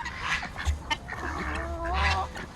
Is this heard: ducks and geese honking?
yes